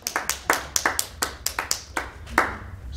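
A short burst of applause from a small audience, a dozen or so distinct claps in a brisk, slightly uneven rhythm, close and clear with no talking.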